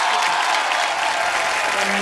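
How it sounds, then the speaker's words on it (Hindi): Studio audience of a Hindi comedy talk show breaks into loud, sustained applause, a dense wash of clapping that fills the whole moment without voices on top. "जोरदार तालियां रितेश भाई के लिए।"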